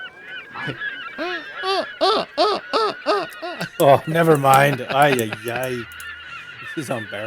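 Seagulls squawk near the sea in a string of loud, harsh, repeated calls, with people talking over them.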